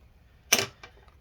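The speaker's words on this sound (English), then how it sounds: "we'll get this screw in." A small screw is set into a Lenovo ThinkPad X1 Carbon fourth-generation laptop during an SSD upgrade, giving one sharp close click followed by a softer second tick in quiet surroundings.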